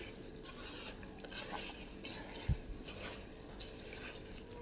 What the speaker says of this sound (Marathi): हे आता मी सगळ्या फोडी अशा थोड्या थोड्या थोड्या करणार आणि अशा हाताने कालवणार